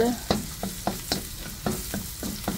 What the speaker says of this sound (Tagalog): Saute lang natin siya. I-brown lang natin ng bahagya.